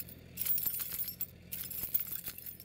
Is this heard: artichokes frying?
no